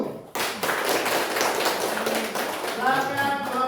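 A classroom group claps after finishing a presentation, a burst of many overlapping hand claps that continues steadily, with voices mixed in underneath.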